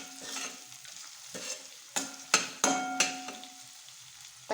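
Whole spices and fried onion stirred in a hot pan for Maharashtrian masale bhaat, soft frying hiss punctuated by several sharp spoon scrapes and clanks against the pan; no voices.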